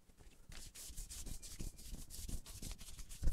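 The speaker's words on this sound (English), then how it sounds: "we're once again sanding that orange peel out of that primer" Sanding primer on a car bumper: repeated rhythmic rubbing strokes of abrasive across the surface, close and clear, about a dozen back-and-forth passes with no talking.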